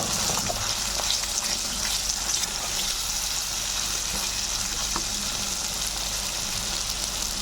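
Spinach paste fries in a pan with a steady, moderately loud bubbling sizzle and occasional stirring scrapes, with no voices.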